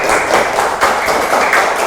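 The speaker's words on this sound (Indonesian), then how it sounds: "Pintar, tepuk tangan dulu" A classroom of students claps hands together, a dense continuous patter of many close claps at steady loudness throughout.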